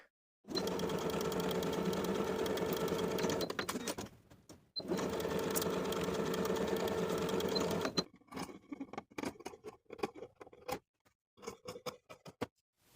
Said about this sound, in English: Sew the front bodice and the outer yoke piece together at the shoulders.